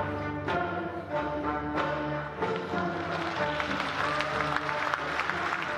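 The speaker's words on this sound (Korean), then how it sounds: "관객들은 박수로 이들을 맞이하는데요." Steady applause from an audience at a Korean traditional music (gugak) New Year concert, blended with sustained instrumental music playing throughout.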